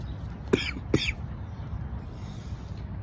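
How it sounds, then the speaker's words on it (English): Two sharp coughs in quick succession from someone speaking outdoors by a river, close and abrupt against a steady low background rumble, followed by quiet. "I just had a coughing fit"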